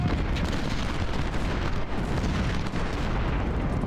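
Battlefield din from Ultimate General: Civil War at the Battle of Fredericksburg, where artillery fire blends into a steady, low, rumbling roar of distant cannon and musketry with no distinct single blasts.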